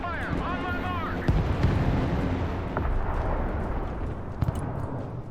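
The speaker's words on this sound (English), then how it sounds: "Mobile artillery standing by. Direct fire on my mark." Mobile artillery fire in the war game Broken Arrow, heavy booming blasts and rumbling detonations, close and loud, with a sharp crack near the end and voices over the din.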